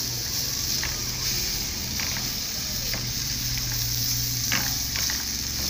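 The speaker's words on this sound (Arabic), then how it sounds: "هنحمر البصلة، لازم تحمر كويس يبقى لونها اصفر كده جميل ذهبي." Onion frying in a pan, browning toward golden for a breakfast fava bean dish, giving a steady close sizzle with a few faint stirring scrapes and a low background hum.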